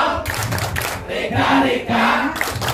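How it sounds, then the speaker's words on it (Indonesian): A group claps and chants together in a short, rhythmic Banyumas clap routine at a village program gathering, with voices and hand claps close and lively. "Tepuk Banyumas."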